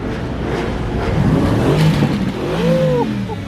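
A straight-piped BMW M4 F82 exhaust revs loudly and close, engine pitch rising and falling through a couple of swells in a noisy car-meet setting.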